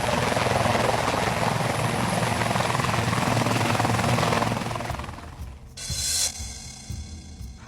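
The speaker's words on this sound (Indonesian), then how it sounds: "Ya ampun Fel, kamu study tournya pakai helikopter?" A helicopter is heard close and loud with steady rotor chop and engine roar, fading after about five seconds into quieter mechanical noise and clatter.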